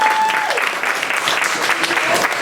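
Applause from a comedy show audience fills the room steadily and fairly loud, a dense wash of clapping with a brief tone near the start and murmuring voices mixed in.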